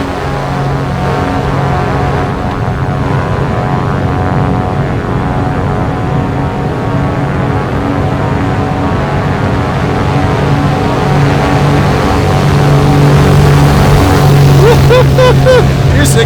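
A small airplane's propeller engine runs loud and close during a taxiing drag race in Vegas, a steady droning hum that swells slightly toward the end, with no speech over it.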